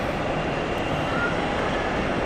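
A jet airliner rolls for takeoff on runway 28 at Zurich Airport, heard from an observation deck as a steady, broad engine roar that holds even and loud throughout, with no talk.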